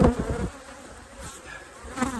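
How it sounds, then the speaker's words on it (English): Bees buzz around a beehive in a soft, wavering hum that rises and dips over a couple of seconds, fairly faint and close. "Look at all the bees down here."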